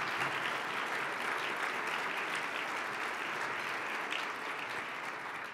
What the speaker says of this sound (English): So please stand up and everybody give them a round of applause because they deserve it